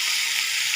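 Ash gourd drops into hot oil with a ginger, green chilli and cumin paste, giving a steady, close, bright sizzle that hisses evenly throughout with no voices.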